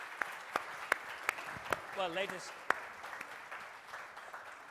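A conference audience gives Khadija thin, scattered applause, about half a dozen separate handclaps spaced out at a moderate distance, with a voice speaking briefly in the middle.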